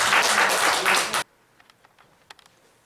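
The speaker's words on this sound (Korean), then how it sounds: "하나님께 영광의 박수를 드리겠습니다." A church congregation at a general assembly worship service breaks into a loud burst of applause that cuts off abruptly, followed by a few faint scattered taps in near silence.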